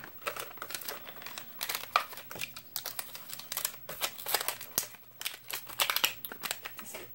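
Scissors cutting decorative paper for a loaded envelope, a quick run of close, crisp snips and paper rustles, fairly quiet with no talking.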